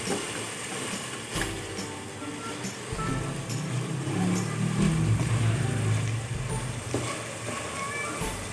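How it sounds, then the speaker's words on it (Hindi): Meat sizzles steadily in more than a cup of hot oil on a stove while frying for a homemade curry, making a continuous broadband crackle with no talking. "गोश्त जो है ना वो इस वक्त फ्राई हो चुका हुआ है।"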